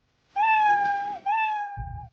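A cat meows twice, a long drawn-out cry followed by a shorter one, close and clear, then a brief low rumble at the end.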